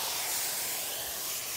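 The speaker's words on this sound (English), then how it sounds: "You can hear that sizzle." Steady broadband hiss of pork sizzling in a hot pan, continuous and fairly loud with no talking.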